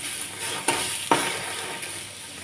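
Onion and tomato sauté in a pan as the base for a spicy chicken rassa curry, making a close, steady sizzle. Two sharp spatula knocks against the pan cut through it.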